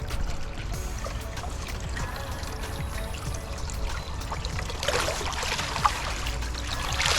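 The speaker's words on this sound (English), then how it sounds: "Okay, time to net the pond. Don't be scared to stir it up." Pond net stirring and sweeping through garden pond water, a continuous sloshing, trickling wash that grows louder and splashier toward the end, close by with no talk.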